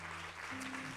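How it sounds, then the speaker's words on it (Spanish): Church congregation clapping during a worship service, a dense, loud wash of applause filling the whole short moment, with a steady hum beneath. "dale un aplauso fuerte al Señor"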